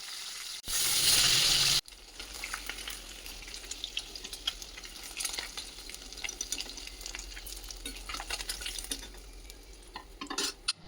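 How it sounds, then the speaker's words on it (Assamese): Shol fish fries in hot oil with a steady crackling sizzle, speckled with pops and spatters, after a brief loud burst of hiss near the start. "এয়া মই মাছখিনি ভাজি লওঁ বোলক এতিয়া"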